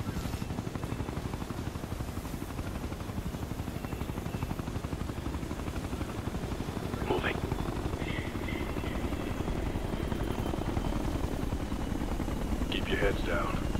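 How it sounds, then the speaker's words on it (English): A helicopter's rotor thumps as a steady, rhythmic drone in the Ghost Recon Future Soldier video game, holding a constant level throughout with faint mechanical clanks on top. "If that chopper spots us, it'll get messy real fast."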